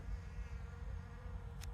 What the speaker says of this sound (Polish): O, nawet pszczoła jest, zobaczcie.